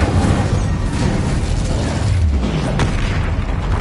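The Incendio fire spell in Hogwarts Legacy, a dense, roaring rush of flame with crackles and pops holding at a steady loudness throughout.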